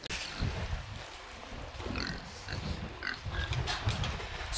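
Pigs grunting and snuffling close by as they nose through a square bale of hay used as bedding, a steady run of low, rough grunts without speech.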